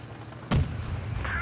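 A tank cannon fires once in World of Tanks Blitz, a sharp booming blast with a low rumble trailing after it.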